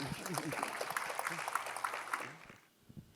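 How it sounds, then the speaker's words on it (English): Steady clapping from a crowd at an urban agriculture conference session fills most of the stretch, mixed with a murmur of voices, then fades out near the end. "Give her a round of applause."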